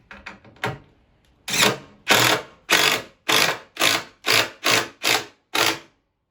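A power driver sinks a screw into wood, starting with a few short taps and then running in about eight loud, evenly spaced bursts with brief gaps between them.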